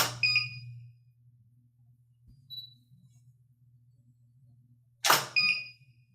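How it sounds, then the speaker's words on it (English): Camera self-timer beeping in a quiet room: a short bright electronic beep sequence opens, a faint blip follows midway, then another sharp beep pair near the end over a low steady hum. "I'm gonna click start on the timer."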